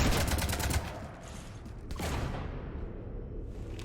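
Sci-fi video game gunfire in Mass Effect 3 as a ship gets shot up, a loud burst of rapid shots at the start, then a sweeping whoosh and a lingering roar.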